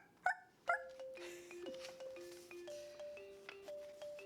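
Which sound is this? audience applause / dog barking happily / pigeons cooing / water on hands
dog barking happily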